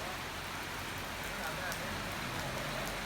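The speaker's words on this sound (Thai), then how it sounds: "ฝนตก" Steady rain falls continuously, a dense even patter at moderate volume with no clear voices.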